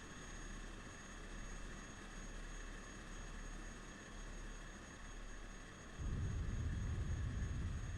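Aircraft engine in a flight simulator game, departing runway 07 left and climbing out: a steady, droning engine hum that swells noticeably louder and deeper near the end as power builds.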